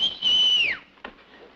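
A person whistles to call someone outside, one loud sustained whistle that slides downward at its end, followed by a faint knock-like tap.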